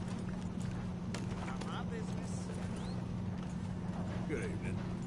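Horse hooves clip-clop at an easy pace in Red Dead Redemption 2, moderately close under a steady low drone, with people talking over them.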